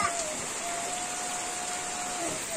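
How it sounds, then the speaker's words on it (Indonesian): Afternoon rain falls in Kampung Munjul, a remote village in West Java, Indonesia, a steady even hiss filling the background with a faint voice underneath. "Suasananya lagi hujan sore hari."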